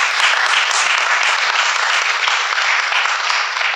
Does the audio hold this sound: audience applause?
yes